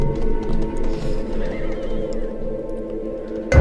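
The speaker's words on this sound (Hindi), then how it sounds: "घोड़े की आवाज़ लगातार तीव्र हो रही थी और हमारे समीप ही आ रही थी" A horse neighs loudly and repeatedly, its whinnies layered with clip-clop hoofbeats as it draws close, ending in a sudden burst.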